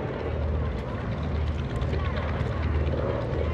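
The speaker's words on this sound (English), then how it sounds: "Curtis C-46 Commando." A Curtiss C-46 Commando, a World War II twin-engine propeller transport, drones past at an airshow with a loud, steady, low engine roar that fills the whole stretch.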